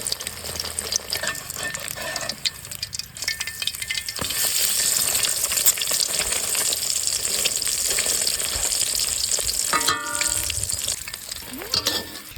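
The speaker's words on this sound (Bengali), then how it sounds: "তেল গরম হয়ে গেছে, তো এবার ডিমগুলো ভেজে নেব" Eggs frying in hot oil in a pan give a loud, continuous sizzle with crackling bursts and occasional scraping from stirring, with no one speaking.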